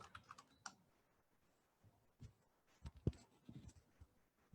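Keys tapped on a computer keyboard in short irregular bursts, soft clicks scattered over a few seconds with one sharper stroke, fairly close and otherwise quiet.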